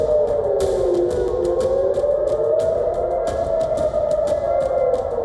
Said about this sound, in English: Sirens in Israel.